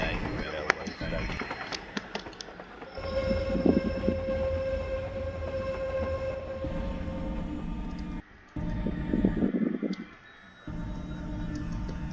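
A tram runs in the Roblox game Nid's Buses & Trams, a continuous rumbling of wheels on rails with a steady tonal hum and clanks, under a person talking over it.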